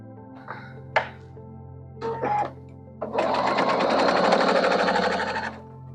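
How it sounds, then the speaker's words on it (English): A sewing machine stitches quilt pieces together for a fall quilt. A few light thumps and short bursts come first, then the motor runs in a steady close whir for about two and a half seconds before stopping. "I'm going to take this over like this and sew them together"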